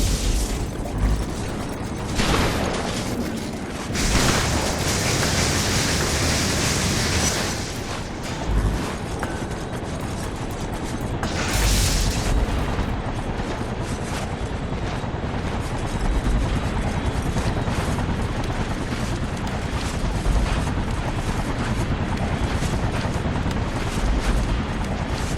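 A helicopter in the video game Infamous churns steadily and loudly throughout. Bursts, booms and mechanical clatter from the game break through at intervals.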